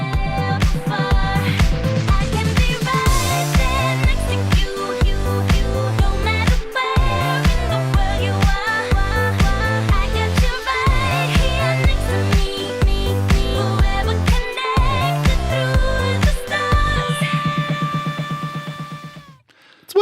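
Repetitive dance pop song playing: a driving, steady four-on-the-floor beat with pulsing synth bass and looping keyboard stabs, loud and continuous before fading out at the end.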